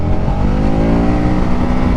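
A 2021 KTM 1290 Super Adventure S motorcycle rolling off the throttle through a corner, its loud steady engine drone and rumble close by, with no talk over it.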